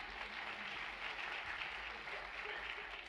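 Conference audience applauding a plenary speaker in a large hall, steady dense clapping throughout at moderate level, no voices over it.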